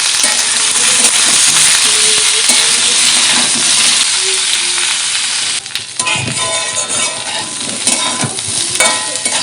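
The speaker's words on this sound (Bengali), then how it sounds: "ওই তেলেই এঁচোড়গুলো ভেজে নেব।" Young jackfruit pieces fry in hot oil in a kadai, a loud continuous close-up sizzle with stirring scrapes, the crackle thinning slightly in the second half.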